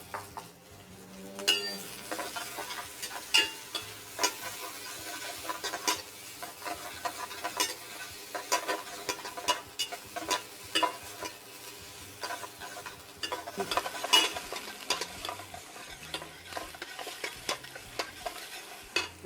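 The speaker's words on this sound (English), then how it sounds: "Let's saute these onions first." Onions sautéing in a pan, a soft sizzle underneath repeated scraping and clinking of a utensil stirring against the pan, close and irregular, heard alone.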